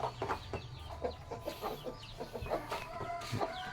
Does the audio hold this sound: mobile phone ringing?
no